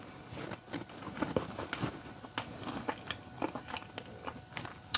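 A person eats skillet pasta stroganoff with sauce, soft close biting and chewing sounds with small crunchy clicks at an uneven pace and no talking.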